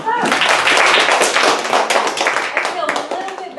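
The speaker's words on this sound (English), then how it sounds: "Give him a clap." Group of listeners at a talk about natural resources claps together in a dense burst of rapid hand claps that fills the whole moment, fading slightly toward the end, with voices mixed in.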